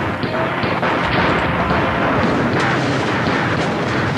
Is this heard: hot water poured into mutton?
no